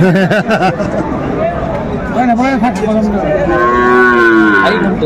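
Sahiwal cattle moo loudly and repeatedly, long low drawn-out calls overlapping with nearby people talking, on a farm in Faridpur.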